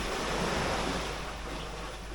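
Sea waves wash onto the shore at Valencia, Bohol, heard as a steady broad roar of surf with wind, fairly loud and continuous, with no voices.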